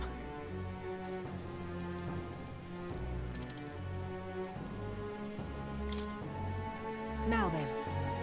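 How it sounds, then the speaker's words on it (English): Rain falling in the video game Metaphor: ReFantazio, a soft steady patter of drops heard faintly beneath prominent background game music, with a few brief sound effects. "Oh, I hate the rain."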